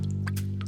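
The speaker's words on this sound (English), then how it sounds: "That's just the water meter dripping." Water meter dripping in a bungalow under remodel, with a few small, quiet drips over a steady low electrical hum.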